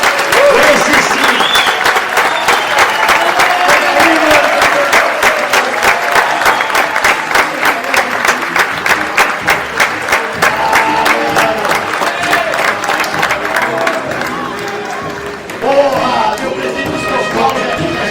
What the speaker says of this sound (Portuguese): Então eu queria pedir uma salva de palmas para o nosso presidente, Júlio Casares